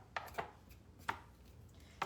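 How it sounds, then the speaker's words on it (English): Ginger skin being rubbed off by hand while peeling, giving a few sharp, separate scraping ticks spaced unevenly over a quiet kitchen background, with no voices. "you just rub along the side of the ginger, and it takes that thin, bumpy skin off"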